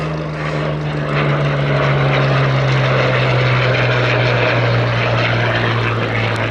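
RAF Second World War propeller aircraft flying at an air show, a loud, steady, droning engine roar holding continuously overhead, close and dominant with no talk.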